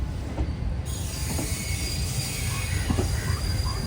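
The Sarkar Express, hauled by a WAP-4 electric locomotive, rolls on the line with loud, sustained wheel squeal over a rumbling rattle of coaches. The sound is close and continuous, with no talk.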